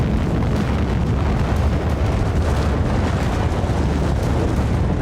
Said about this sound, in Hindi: पाकिस्तान में बलूचिस्तान के चगई में आबादी के बीच न्यूक्लियर धमाके कर